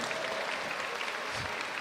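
Steady, dense applause from a live audience at a manga convention meet-and-greet, sustained and even throughout with no pauses, filling the room at moderate loudness.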